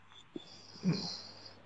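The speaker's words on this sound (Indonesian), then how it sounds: "Ini ada yang ngorok" A person snoring nearby during an Indonesian talk session, heard as one faint, rough snore over a quiet background hum, with a small click just before it.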